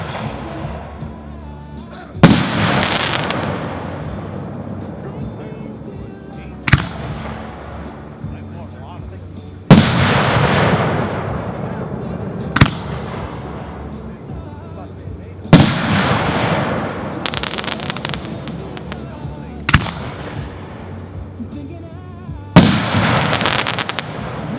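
Dunpie Dominator Versa 2.5-inch 1.3 consumer fireworks cake assortment firing: about seven to nine sharp, loud launch-and-burst reports at irregular intervals, each trailing into a long crackling, rumbling wash that fills the gaps, with no talk over it.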